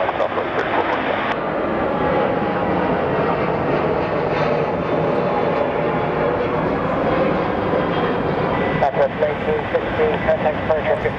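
Jet aircraft engines roar steadily at Phoenix Sky Harbor Airport as a regional flight prepares to depart, a loud continuous drone with people talking over it.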